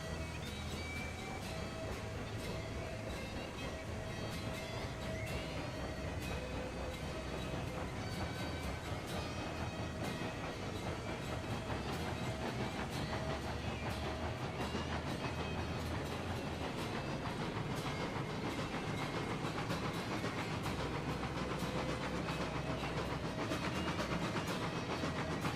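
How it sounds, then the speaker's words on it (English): In a railroad video game, a locomotive strains to pull a train of seven cabooses, giving a steady, continuous rumble of rolling rail cars with faint clacking and hiss throughout, with no talking. "Come on, locomotive. You can't be struggling that hard against 7 cabooses."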